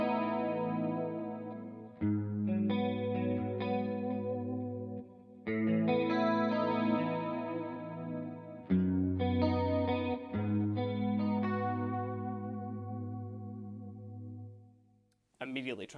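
Clean electric guitar played through a Neural DSP Quad Cortex with chorus and reverb: ringing sustained chords and arpeggiated notes with a shimmering wide modulation and lingering tails, ending in a brief pause and a short noise.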